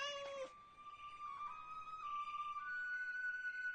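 A cat meows in a Greek-dubbed Barbie and the 12 Dancing Princesses animated film, with a short cry followed by a long, wavering, drawn-out yowl. The yowl is clear and prominent, and no one speaks over it.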